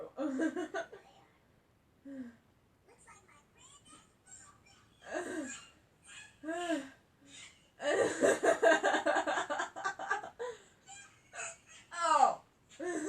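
Repeated hiccups from a person in the middle of a long hiccup attack, sharp and irregular, sometimes in quick clusters, mixed with gasps and short vocal sounds.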